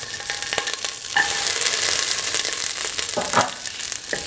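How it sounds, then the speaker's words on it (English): Shallots and garlic fry and sizzle in a hot pan, a steady crackling hiss broken by a few scraping stirs of a spoon, close and continuous with no talking. "put in the shallots and the garlic"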